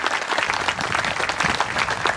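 An audience at a Haryana cultural festival program applauds, a dense, steady patter of many hands clapping at moderate volume, continuous throughout without voices standing out.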